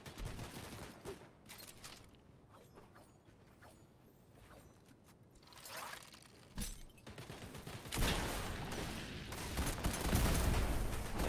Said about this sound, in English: Nearly dodging that shotgun shot